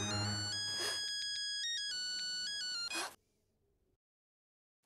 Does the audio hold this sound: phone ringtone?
yes